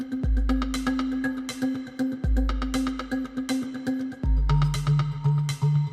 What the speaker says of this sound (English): I do have this synth which has got a lot of rhythmic quality to it